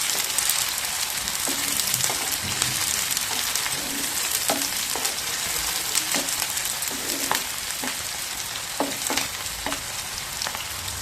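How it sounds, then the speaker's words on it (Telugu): Green chillies and chopped onions fry in a pan of oil for a banana curry, giving a steady close sizzle with scattered crackles and pops throughout, with no talking. "మనం కట్ చేసిన పచ్చిమిర్చి, కట్ చేసిన ఉల్లిపాయలు బాగా కలర్ వచ్చే వరకు వేసుకుందాం."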